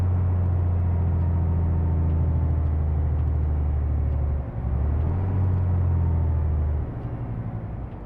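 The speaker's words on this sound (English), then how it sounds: "The main reason why I sort of lost interest in this truck was because the engine didn't sound all that great that comes with the mod" Modded truck engine in Euro Truck Simulator 2 drones steadily at low pitch with a heavy rumble, dipping briefly near the middle and easing slightly toward the end, with no voices over it.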